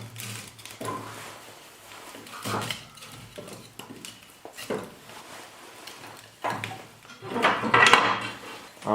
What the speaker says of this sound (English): I'm gonna put a little more wood in the stove.